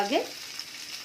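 Tomato softening in hot oil in a pan for dhaba-style egg masala curry, a brief close sizzle that opens with a quick stirring scrape, then settles into a soft, steady crackle.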